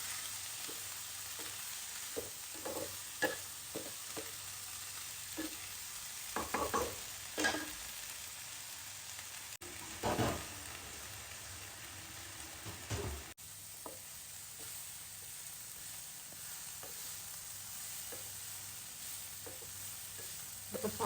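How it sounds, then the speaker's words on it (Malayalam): Beans frying in a pan and being stirred, a steady soft sizzle under repeated scraping strokes of a spoon, clustered in bursts with quieter stretches between, close and without talk. "നന്നായിട്ടൊന്ന് ഇളക്കി കൊടുക്കണം കേട്ടോ ഈ സമയത്ത്."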